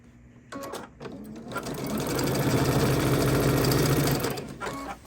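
A sewing machine stitches a quilt-as-you-go quilt, with short starts and then a loud, steady mechanical whirring run that slows and stops near the end, heard up close.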